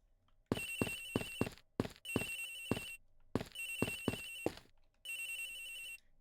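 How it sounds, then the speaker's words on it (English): A telephone ringing in an Ace Attorney investigation video game: four bursts of a bright electronic ring, each made of rapid trills, repeating with short gaps in between and no talking. "It's ringing from somewhere, sir!"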